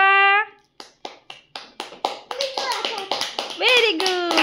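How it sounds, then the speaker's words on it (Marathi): Children clap in a short run of separate claps that grows into quicker clapping at home after a quiz game, with a voice calling out over the later claps. "टाळ्या वाजवा."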